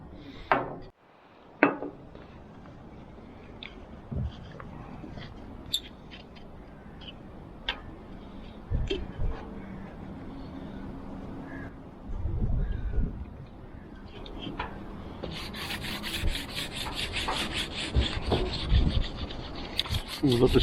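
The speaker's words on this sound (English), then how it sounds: "get the old brasso out, and give these runners a bit of a rub" Drawer runners on a narrowboat rubbed with Brasso, a soft repeated scrubbing and rasping with small knocks and clicks, quiet and close, growing brighter and busier toward the end.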